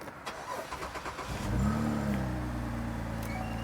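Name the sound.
Cadillac SRX4 engine starting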